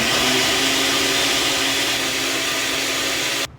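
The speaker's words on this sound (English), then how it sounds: "Blender." Loud, steady whir of a blender mixing a protein shake, a continuous motor drone with a bright buzzing tone that cuts off abruptly just before the end.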